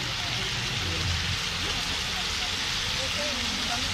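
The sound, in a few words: strong wood fire burning under cooking adobo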